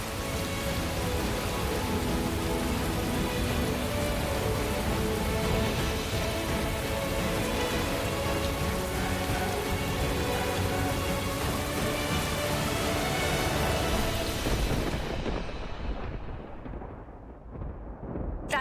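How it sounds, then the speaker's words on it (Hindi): Heavy rain pours steadily outside, a dense, loud broadband wash with no letup for most of the stretch, then thins and drops away near the end. "प्राची बहुत बारिश हो रही है बाहर"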